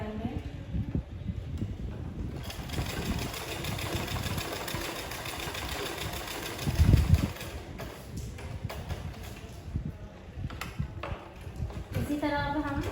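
Sewing machine stitching a suit, a continuous mechanical whir with rapid needle chatter running steadily, a thump partway through, and a voice speaking at times.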